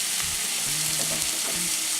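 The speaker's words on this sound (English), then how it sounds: "go ahead and add 2 tablespoons of oil. And let that heat up." Two tablespoons of oil warming in a pan give a steady, close, even sizzle that keeps going throughout, with a few faint tonal hums under the frying.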